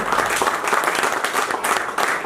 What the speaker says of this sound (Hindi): सर के लिए जबरदस्त तालियां बजाई जाएं खड़े होकर के।